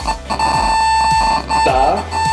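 Electronic game timer alarm beeping in a steady, repeated pattern, loud and close, with voices talking underneath during a classroom word-guessing game.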